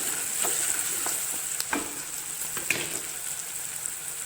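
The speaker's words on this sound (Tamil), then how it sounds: "ஒரு இனுக்கு கருவேப்பிலை போடுங்க போட்டுட்டு ஒரு கால் டீஸ்பூன் பெருங்காயத்தூள் போடுங்க அதையும் நல்லா வதக்குங்க" Curry leaves and asafoetida sauté in hot oil in a pan, a steady close sizzle broken by a few scraping stirs, for a quick Chettinad green chilli mandi.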